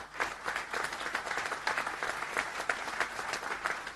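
At a French left-wing political gathering in Brittany, a moderate-sized audience gives Yannick Jadot somewhat distant applause, individual claps audible as a lively uneven patter throughout.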